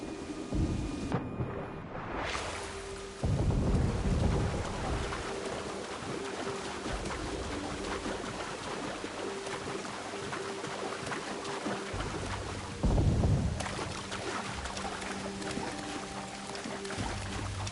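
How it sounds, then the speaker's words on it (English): A steady wash of rain pours in a pirate-era sailing game, with deep rumbles of thunder breaking in twice, low and heavy, over a constant hiss of falling water. "it's just raining a little bit"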